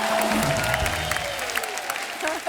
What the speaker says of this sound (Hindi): एक बार अनीता डॉट हसनंदानी के लिए जोरदार ताली